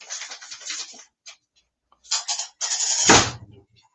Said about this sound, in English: Gonna close my doors.